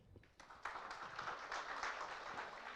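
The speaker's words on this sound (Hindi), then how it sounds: "एक बार जोरदार तालियां" Applause from an audience at an India News conclave, building from a few scattered claps into continuous clapping, fairly faint and distant.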